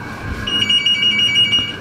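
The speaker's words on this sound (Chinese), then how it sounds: "有电话。" A telephone rings nearby with a steady, bright electronic tone that pulses a few times, heard alone over light background noise.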